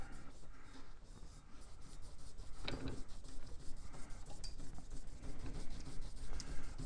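Steady, dense rasping friction as a shoelace is drawn quickly back and forth in a sawing motion against an air compressor part, a continuous scratchy rubbing with no talking.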